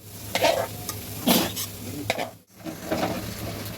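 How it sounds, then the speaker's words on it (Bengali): Tomato, salt and turmeric spices stirred and broken up with a metal spatula in a hot pan for a Bengali fish curry, several scraping strokes with light sizzling between them, close and fairly loud with no talk. "এগুলোকে একটু ভেঙে দেবো খুন্তি দিয়ে এমনি করে।"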